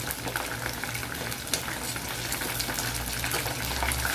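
Shanghai spring rolls frying in hot oil, a steady dense crackle and bubbling sizzle close by, continuous throughout with a low hum beneath and no talking.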